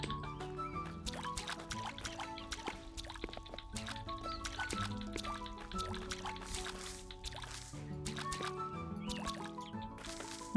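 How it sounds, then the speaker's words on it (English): Crops are watered in the Staxel video game: a busy stream of small dripping, splashing and pouring game sounds, layered with tonal chimes and clicks, steady and close with no talking. "So this will be a good test of my watering stuff."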